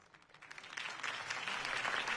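Applause swells from a scattered start into steady clapping from a crowd, heard at moderate distance with no talking.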